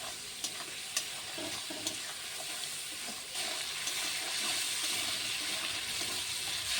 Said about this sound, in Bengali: আমি মাছটিকে একটু নেড়ে চেড়ে একটু হলুদ গুঁড়ো, একটু নুন দিয়ে মাছটিকে সুন্দর করে ভেজে নেব